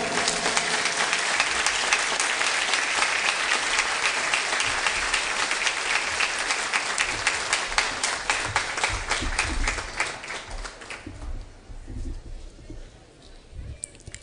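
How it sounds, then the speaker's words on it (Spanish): Audience at a ceremony honoring a senator applauds in a loud, dense burst of clapping that fades after about ten seconds, leaving a few scattered claps and room noise. "Felicitaciones, por favor, nuevamente un fuerte aplauso."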